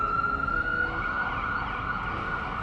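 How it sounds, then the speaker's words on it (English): Ambulance sirens wail steadily and loudly as emergency vehicles pass close by, the pitch sweeping and shifting over continuous road noise. "And nobody moved for these ambulances anyway."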